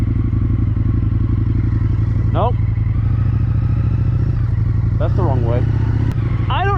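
A KTM 890 motorcycle being ridden, its engine giving a steady, close, loud droning rumble throughout, with a few brief voice-like sounds over it.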